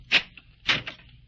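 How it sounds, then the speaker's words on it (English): A door is opened as a radio drama sound effect in an old-time haunted-house episode, making two crisp clunks about half a second apart, close and fairly loud, with no talk over them. "Open the door."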